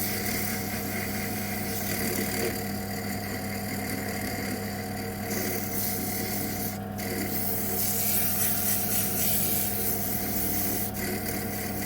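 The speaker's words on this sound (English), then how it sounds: "so hopefully I'll just sand this a bit smoother" Hand-sanding a small wooden dibber smooth, a steady raspy rubbing that runs close and continuous for about twelve seconds over a low background hum, with no talking.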